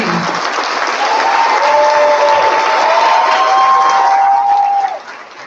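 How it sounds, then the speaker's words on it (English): A gala audience gives sustained applause that stays loud and dense for about five seconds and then quickly fades, with faint cheering mixed in. "Please rise up and give her a huge round of applause"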